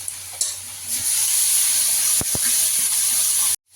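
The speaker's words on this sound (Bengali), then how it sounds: "আমি একটু জল দিয়ে ভেজে নেব, নাহলে মশলাটা পুড়ে যাবে।" Ground prawn masala spices (salt, turmeric, chilli, cumin and coriander powders) fry in a pan with a splash of water, giving a steady close hiss with a couple of sharp stirring clicks before it cuts off abruptly.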